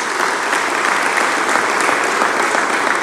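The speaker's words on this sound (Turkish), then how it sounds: "Onları tekrar alkışlıyoruz." Dense, steady clapping from a large audience at a Turkish parliamentary party group meeting, loud and continuous throughout with no pauses.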